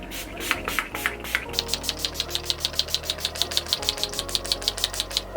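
Rapid repeated pumps of a makeup setting spray bottle, a quick steady series of short hissy spritzes, close and fairly loud over a low background hum.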